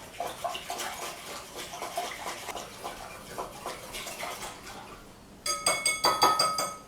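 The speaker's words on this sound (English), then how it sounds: "So, just whisk that until it's homogeneous. Super aggressively." Mascarpone mixture for lemon sorbetto is whisked aggressively in a bowl, giving fast, regular scraping strokes that turn louder and more ringing near the end.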